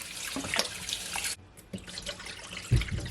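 Oxtail meat is rinsed under a running kitchen tap, with water splashing steadily, a brief pause in the flow, then more splashing and handling in the sink.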